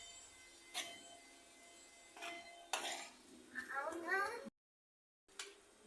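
A spoon stirs prawn stuffing in a pan with several sharp metallic scrapes and clinks against the pan, close up, over a quiet sizzle, followed by a brief drop to silence and one more scrape.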